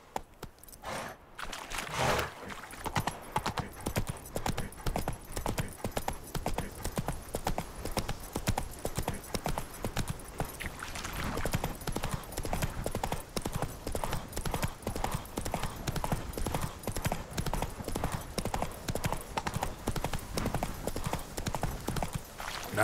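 Roach, a horse in The Witcher 3 video game, trotting with a dense, continuous clip-clop of hooves, loud and close throughout, with a brief flurry at the start and no speech.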